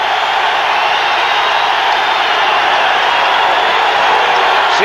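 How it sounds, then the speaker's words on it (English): Arena crowd roaring steadily at a 1986 NBA basketball game, Celtics against Bulls, as Boston rallies late; a loud, continuous wash of cheering and crowd noise fills the whole stretch with no breaks. "Crowd has turned up a notch here."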